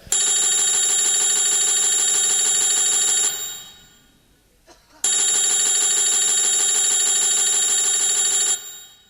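An old-style telephone bell rings in two long, loud trilling bursts separated by a brief pause, with no one speaking, during a Nautanki folk stage performance.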